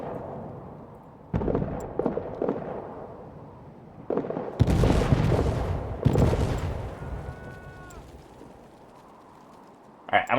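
Gunfire in the trench-warfare video game All Quiet in the Trenches: scattered sharp shots and bursts of rifle and machine-gun fire, some loud and close, others distant, with rumbling blasts and quieter gaps between.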